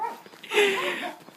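Dog on a mountain path giving a short whining bark-like yelp, moderately close, surrounded by quiet outdoor ambience.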